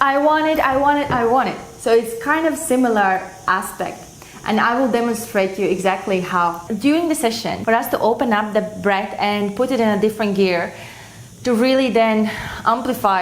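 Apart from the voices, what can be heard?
No everyday noise stands out behind the speech.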